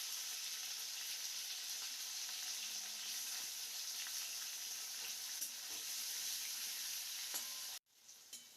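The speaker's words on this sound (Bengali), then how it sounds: "হালকা লালচে করে পনিরগুলো আমাদের ফ্রাই করে নিতে হবে।" Paneer pieces fry in oil until lightly reddened, giving a steady, close sizzle that holds evenly and then cuts off abruptly near the end.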